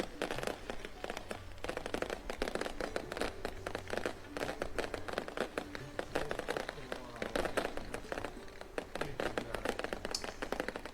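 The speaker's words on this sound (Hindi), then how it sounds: "आपके सामने ये ग्राउंड की आतिशबाजी शुरू हुई है।" Ground fireworks at an outdoor festival event, a dense, continuous crackle of rapid pops and bangs over several seconds, with a faint crowd and voices underneath.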